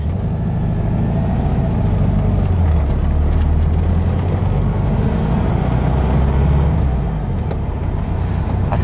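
A Volkswagen engine fitted with a Solex 34 PICT carburetor drives along, heard from inside the car as a loud, steady low rumble with some wind noise, pulling away in second gear.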